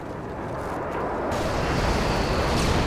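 Airstrike explosions rumble through a Call of Duty: Modern Warfare 2 multiplayer match, a dense, continuous low roar that swells louder partway through.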